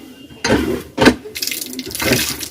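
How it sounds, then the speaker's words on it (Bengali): Water gushes from a hand-pumped tube well after priming and its valve ball being replaced, arriving in several short loud surges about a second apart with splashing and gurgling, close by and alone. "টানতে টানতে দেখবেন কিছু সময়ের মধ্যে কলে পানি চলে আসবে"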